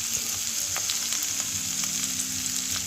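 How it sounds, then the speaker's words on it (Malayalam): Ginger, garlic and curry leaves fry in hot oil with a dense, continuous close-up sizzle and crackle, steady and loud for the whole stretch. "ചൂടായതിന് ശേഷം നമുക്ക് ഇതിലേക്ക് ഇഞ്ചിയും വെളുത്തുള്ളിയും ഇട്ട് കൊടുക്കാവേ"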